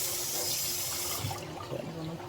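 Water is poured close by to rinse and scald poultry or meat for red pea soup, a short steady splashing stream that fades away partway through.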